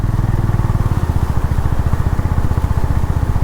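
A Honda Hness motorcycle on a long road ride, its single-cylinder engine thumping in a fast, steady pulse, close and loud with no talk.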